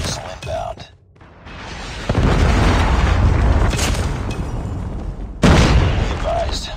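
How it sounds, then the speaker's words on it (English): Predator missile strike in Call of Duty Mobile, a heavy booming blast after a brief lull, followed by rumbling debris and a second loud burst, with game voice chatter around it. "Be advised, hostile predator missile inbound."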